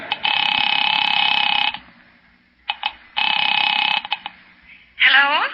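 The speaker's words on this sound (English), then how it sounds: "Picking it up quietly, I dialed my daughter's number, Alec Bartlett's wife." A telephone in an old-time radio horror drama, with two long steady ringing or dial-tone bursts separated by short clicks, then a brief rising tone at the end.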